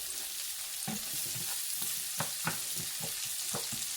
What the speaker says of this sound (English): I am going to brown my onion in my renderings there